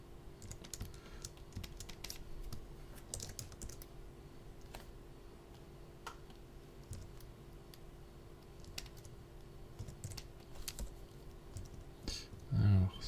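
Keys tapping on a computer keyboard sitting right behind a desk microphone, a steady stream of soft, irregular clicks over a constant low hum lasting many seconds, with faint scattered background sounds.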